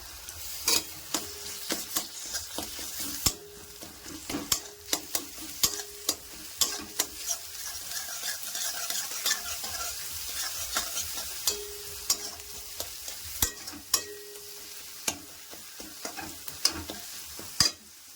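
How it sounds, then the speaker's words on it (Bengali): Garlic paste frying with onions in a pan for palak paneer, with repeated sharp spoon-against-pan stirring clicks over a steady soft sizzle, close and moderately loud with no talking. "এবার দিয়ে দেব রসুন বাটা"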